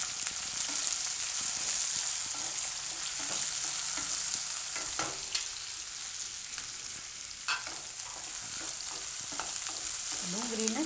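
Onion fries with garlic and chilies in a pan for a capsicum-onion dish, a constant close sizzle broken by repeated scraping stirs of the spoon, with no voices.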